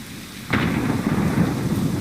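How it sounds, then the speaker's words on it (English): Rain pours steadily in the video game Ring of Elysium as a loud rumble of thunder breaks in, rolling on and filling the air in a dense, continuous wash. "Loving the rain, loving the sound of the thunder."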